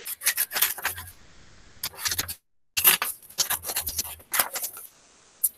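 Scissors snipping through paper to cut several strips for a paper-folding craft, heard as a close series of crisp, rapid snips and rustles in short bursts with brief pauses between them.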